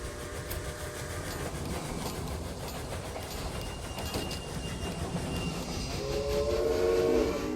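Trains rumble along in Railway Empire, a railroad management game, with a continuous rolling rail clatter and a whistle-like tone rising near the end, fairly quiet and steady with no talk.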